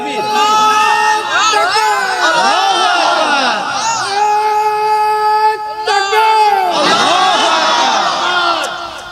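A large crowd at an Islamic religious gathering (waz mahfil) in Natore shouts takbir in loud, ragged, overlapping waves of voices, rising and falling over about nine seconds.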